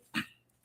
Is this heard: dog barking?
yes